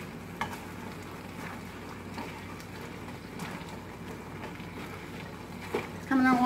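Onions sizzle in a pan on the stove, a steady crackling fry with scattered pops and stirring scrapes, close and moderately loud while a person talks over it.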